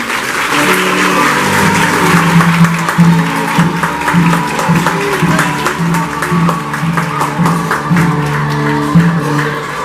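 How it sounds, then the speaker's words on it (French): Applause from the audience at a school's 21st anniversary celebration, a steady, loud wash of clapping lasting throughout with a repeating musical tone underneath and no clear talk. "on l'applaudit"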